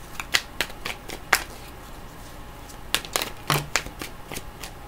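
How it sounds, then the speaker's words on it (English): Tarot cards are shuffled by hand in a quiet room, giving a run of sharp riffling snaps and soft slides in uneven bursts, close and moderately loud. "I was just going to pull cards, but I kind of feel like shuffling them."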